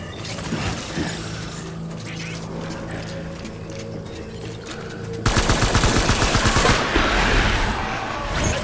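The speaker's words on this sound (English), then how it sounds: "Taking fire!" Video game gunfire in Death Stranding: after a stretch of low ambient rumble, a sudden loud burst of rapid automatic fire rattles on continuously for several seconds before tapering off, close and dense.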